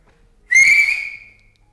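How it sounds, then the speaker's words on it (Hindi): A person whistles one loud, sharp, rising note that holds for under a second and then trails off, alone with no talking around it. "सीटी भी बनती थी तुम्हारी, आती है तुम्हें? एक बजाओ, बजा दो।"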